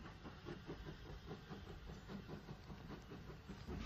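A Southern Railway branch train hauled by locomotive 31551 pulls out of Goudhurst station on the Hawkhurst line, a steady low rumble with hiss and faint rhythmic wheel clatter, heard on old archive film.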